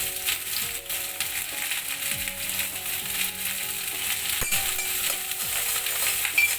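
Whole black pepper and chopped onion frying in hot oil in a kadhai give a steady, moderate sizzle, with scattered clicks and scrapes of stirring throughout.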